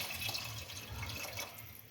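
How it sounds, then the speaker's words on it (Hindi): A glass of water poured into a pot of keema with chilies, ginger and garam masala, a soft continuous splashing pour heard close but faint. "1 गिलास इसके अंदर पानी डाल दें।"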